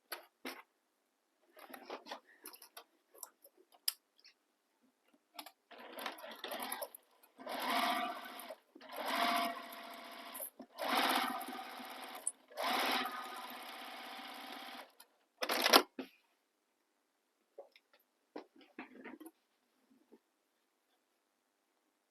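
A sewing machine stitches the seam of a fabric crossbody bag in several separate bursts of running, some short and some a few seconds long. Brief pauses and small handling noises fall between them, and no one speaks.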